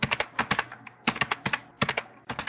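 Computer keyboard keys clatter in quick bursts of close, crisp clicks while code is typed for a Code.org Game Lab game, with brief pauses between runs of keystrokes.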